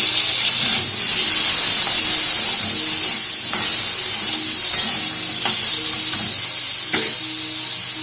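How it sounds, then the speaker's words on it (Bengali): Potatoes fry in oil in a wok, giving a loud, dense, unbroken sizzle up close, with occasional light clinks of a spatula and no voices. "ওই কড়াতেই আমি একটু তেল নিয়ে নিয়েছি এবার আমি আলুগুলো ভেজে নেব"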